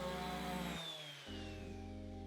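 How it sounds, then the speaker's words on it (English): Power sanding of a walnut shelf with 220 grit sandpaper: a steady, loud motor whir with a buzzing drone, briefly dipping and easing off before spinning back up to full speed. "I first started by simply sanding everything down using 220 grit sandpaper."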